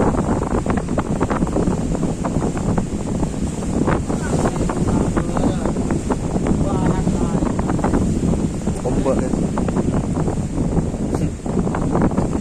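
Strong wind roars across the microphone on a small boat at sea near Sapudi Island, a loud, constant buffeting rush that lasts throughout, with water sounds and a voice partly buried beneath it.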